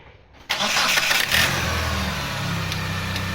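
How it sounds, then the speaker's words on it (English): A 2003-2004 Mitsubishi Outlander engine cranks and catches after a brief quiet moment, then settles into a steady, fairly loud idle hum with a faint whine, heard close up. "go ahead and start the car"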